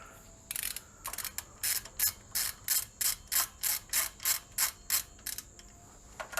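A hand ratchet clicks in quick, even bursts, about a dozen in a row, as 10 mm bolts are tightened during a timing belt replacement on a 2005 Dodge Magnum.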